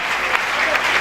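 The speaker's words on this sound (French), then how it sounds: "Acclamation." A congregation at a prophetic church gathering applauds in a brief, dense burst of clapping, steady and fairly close, with no clear cheering above it.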